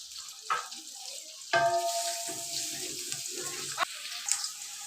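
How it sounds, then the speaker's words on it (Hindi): Chopped onions frying in a pan for vermicelli upma give a steady close sizzle, with stirring clatter and a few louder scrapes and knocks, and no voices. "प्याज हमारे हल्के से फ्राई से हो गए हैं"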